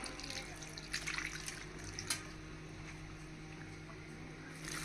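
Oil poured over homemade Andhra mango pickle (avakaya) makes a continuous soft, watery trickle with a few brief louder splashes, close up and steady throughout, with no one speaking.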